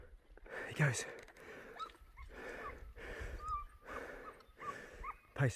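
A hunting dog trail barks while chasing a wild pig through thick brush, its bursts coming in a rough repeated rhythm at a middling distance, mixed with heavy breathing and faint whispering nearby.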